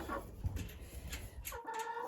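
Marans chickens, a rooster and hens, give a few soft, brief clucks and calls in a quiet poultry yard, faint and sparse with low rumble underneath.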